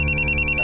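An electronic phone ringtone trills in a steady pulsing burst in a crime drama, loud and close with no voices over it.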